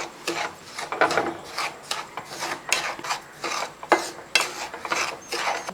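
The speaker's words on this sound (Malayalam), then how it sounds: "ഇത് പാക്കറ്റ് വരുന്ന കേട്ടോ വറുത്ത് വരുന്ന റവയാണ് എന്നാലും നമ്മൾ ഒന്നുകൊണ്ട് വറുത്ത് എടുക്കുന്നത് നല്ലതാണ്" Packaged roasted semolina is dry-roasted in a pan while a wooden spatula scrapes and stirs it, producing rhythmic gritty rasping strokes roughly every half second, close and clear.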